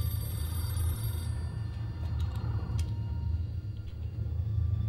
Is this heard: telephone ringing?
yes